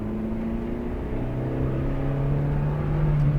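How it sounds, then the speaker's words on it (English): A stock 1990s Honda Civic EF9 with standard exhaust and intake pulls hard in second gear, a steady close engine drone rising gradually in pitch and loudness throughout, with no talking. "Second gear pull."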